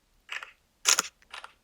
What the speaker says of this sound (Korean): 셀카는 제가 지금 직접 찍어보면서 비교를 해보겠습니다. 찰칵.